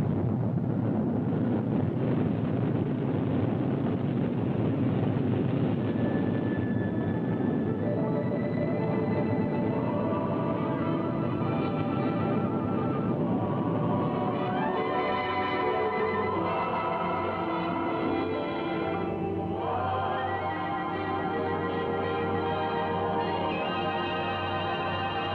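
A rocket launch at the 1955 Disneyland opening is heard as a sustained, loud rumbling roar with wind-like noise, steady throughout and shifting in tone midway, with no voices.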